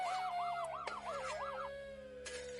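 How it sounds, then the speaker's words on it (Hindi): Police siren wailing in a foggy rural field, a rapid rising-and-falling electronic wail repeating several times, clear and moderately near, then settling into a steadier tone. "कोहरे के बीच सायरन की आवाज गूंजी।"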